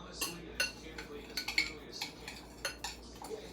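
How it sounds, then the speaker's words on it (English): A utensil stirs food in a pot while a cube steak dinner with gravy and rice is cooked, making a quiet run of clinks and scrapes about every half second, with no talk. "And we're going to stir that around."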